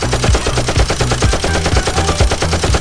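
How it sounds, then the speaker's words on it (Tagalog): Machine gun fire, loud rapid continuous bursts of shots in a fast even rhythm, close and dominating throughout. "Machine gun ba?"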